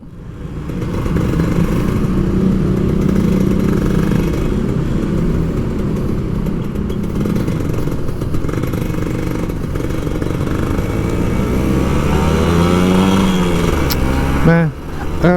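An older Kawasaki Ninja RR 150 motorcycle rides through Jakarta at night, its engine a loud, continuous buzzing drone that wavers in pitch as it climbs and eases through the ride.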